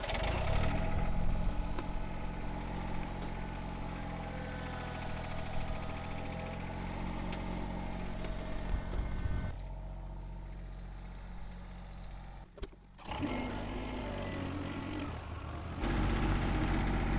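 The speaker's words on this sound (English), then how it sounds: "reposition the tractor over on that side" A tractor engine idles with a steady low rumble throughout, briefly dipping and shifting before settling back into its constant drone.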